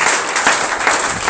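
An audience claps together in a steady, dense burst of applause that holds evenly from start to finish, with no voices above it.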